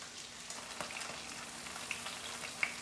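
Cornstarch-coated paneer sizzles as it is dropped into hot oil, a soft, steady frying crackle with a few faint pops, heard quietly with no talking.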